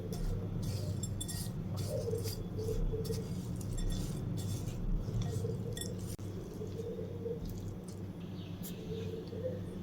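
A spoon clinking and scraping against a bowl while oats are mixed for a sugar-free oats cake, with irregular small taps and stirring scrapes close by over a low background hum.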